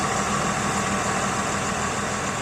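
A diesel vehicle idles close by on the Blue Ridge Parkway near Fancy Gap, Virginia, a steady, loud, unbroken engine rumble.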